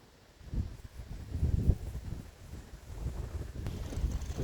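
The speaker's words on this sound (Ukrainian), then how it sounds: "Дуже сильний вітер, просто такі пориви вітру йдуть." Strong gusty wind buffeting the microphone in low rumbling surges while fishing outdoors, rising and falling irregularly; no voices.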